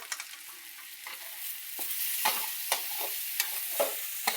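A dish in a pan, just salted, stirred with a spoon, giving repeated scraping strokes at an irregular rhythm over a soft, steady sizzle, close up with no voices.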